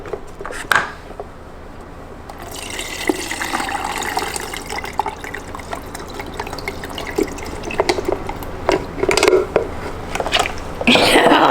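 Pickles and their brine pour from a nearly empty jar into a container in a home kitchen, giving splashing and trickling liquid sounds with a few louder plops, close and fairly loud, with a voice speaking in between.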